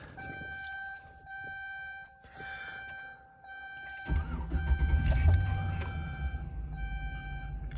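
A 2006 GMC Sierra pickup, raised on ramps with a check engine light on for an oxygen sensor, starts up and settles into a steady low idle. Steady electronic chime tones sound before the engine catches.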